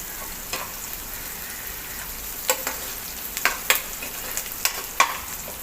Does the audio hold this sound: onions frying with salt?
yes